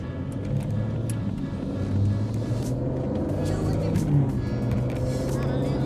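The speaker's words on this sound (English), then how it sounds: "For a V6, it does sound pretty good" A Maserati Ghibli's Ferrari-built V6 revving from inside the car, a steady throaty engine drone with mild swells in pitch and loudness.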